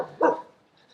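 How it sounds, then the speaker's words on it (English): A guard dog in a small Spanish town gives a single short, moderately loud bark at a slight distance, followed by near quiet. "Guard dogs."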